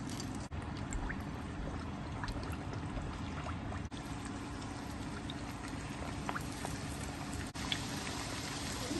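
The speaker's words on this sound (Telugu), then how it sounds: "ఇవి రెడీ అయ్యినవి ఇలా ఒత్తుకున్నవి వీటిలో వేయించేసుకుందాం" Pressed chekkalu rice crackers fry in hot oil, a steady faint bubbling sizzle with tiny pops and crackles throughout, no voices.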